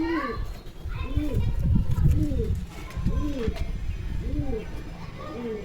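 Pigeons coo repeatedly at close range in a loft, their throaty rolling calls overlapping in a rhythmic series while a person talks and children are heard in the background.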